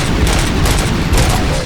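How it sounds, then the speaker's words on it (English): Gunfire in the Robocop Rogue City game, a dense, loud burst of booming shots packed tightly together for a moment. "Gunshots?"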